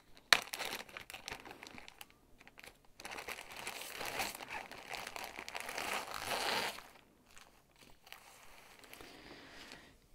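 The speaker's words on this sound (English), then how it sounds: "there's going to be a lot of crinkling, so if you don't like that," Plastic packaging crinkles and rustles up close while an embroidery kit is unpacked, with an early sharp crackle, then irregular crumpling that swells and fades, no talk.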